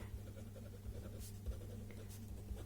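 A pen writes out a maths answer on a page in short, faint scratching strokes, close and quiet, over a low steady hum.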